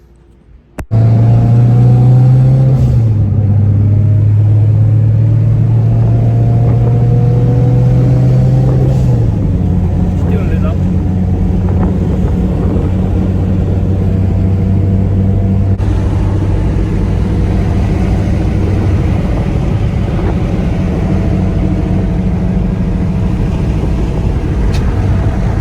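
A Joey 400 motor scooter with an oil leak pulls away and rides steadily, its engine drone loud and close with gear and pitch shifts under constant road and wind noise, no talking.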